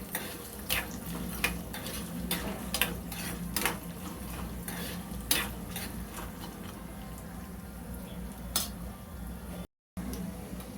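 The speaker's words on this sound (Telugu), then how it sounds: "శనగపప్పు, మినపప్పు, ఆవాలు వేగిపోయి కదండి." Chana dal, urad dal and mustard seeds frying in oil while being stirred, heard as soft continuous sizzling broken by frequent light scrapes and clinks of a spoon against the pan.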